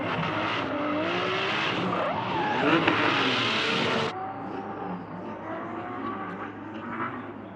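Ben Wilkinson's Driftzilla drift car at the Garrett International Drifting Cup, sliding with loud, continuous tyre and engine roar for about four seconds, then dropping to a quieter, distant rumble.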